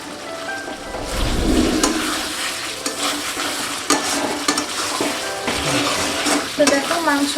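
Meat sizzles and spits in a pan for Bengali kosha mangsho while a spoon stirs through it, giving loud, close scraping and bubbling frying noise with sharp pops, and no voices.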